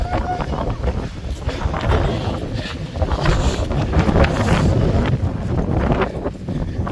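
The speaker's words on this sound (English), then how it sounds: "Windy up here." Steady, heavy wind on a high rock ridge in Bolivia buffets the microphone throughout, a continuous roaring rush with gusty swells and no break.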